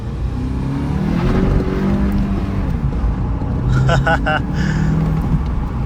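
A Volkswagen GTI on its stock tune accelerating hard, a loud sustained engine drone heard from inside the car with a brief voice partway through.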